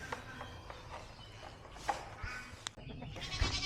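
Male goats bleating on a small farm, several short, fairly faint calls at uneven intervals, mixed with light shuffling and footsteps.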